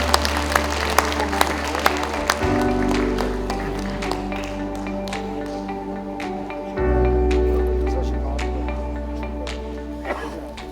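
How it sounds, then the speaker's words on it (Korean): A crowd at a book launch event in Wonju, Gangwon, breaks into applause over a loud, low-pitched hum and booming sound system, with scattered sharp claps early and a swell of clapping later. "큰 박수 부탁드리겠습니다"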